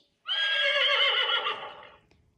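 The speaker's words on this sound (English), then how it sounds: "Horse." A horse gives one loud, close whinny lasting nearly two seconds, rising and then trailing off, alone against silence.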